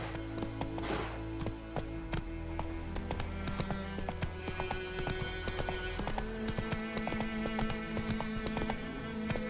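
A horse in the video game The Witcher 3 pounds along with a rapid, rhythmic clip-clop of hooves, close and continuous. A short whinny is heard near the start over the game's background sound.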